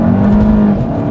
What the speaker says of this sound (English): so let's take the GTI for a quick drive here